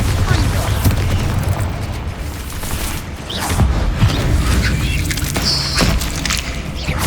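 A Bombarda spell explosion in Hogwarts Legacy, low booming blasts and bursts over dense game ambience and effects.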